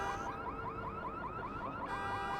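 A car alarm in the video game Watch Dogs wails loud and steady with a rapidly repeating rising whoop, alone with no voices.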